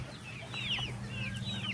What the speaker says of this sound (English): Look at all the birds. So many birds.